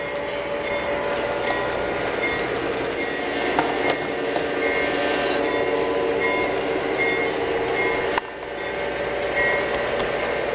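A model railroad train running with a New York Central caboose, giving a steady, close mechanical rumble and whir that carries on without pause, with one brief dip near the end.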